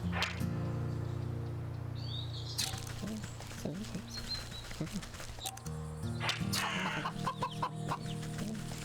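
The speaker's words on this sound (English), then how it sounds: "Oh my god, look at the chickens." Chickens cluck repeatedly in a farm area of the Wytchwood video game, with overlapping clucks and short calls over a steady music bed, fairly close and continuous.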